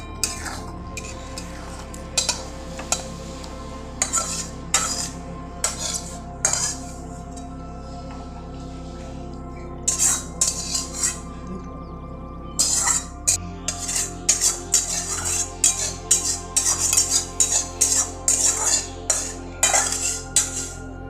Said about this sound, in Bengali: নেড়ে আমি নামিয়ে নেব।